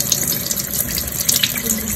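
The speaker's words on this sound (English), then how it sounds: "I'm just gonna first run some water through these products." A kitchen sink tap runs steadily, with water splashing and hissing into the basin close by at a constant level and no voices over it.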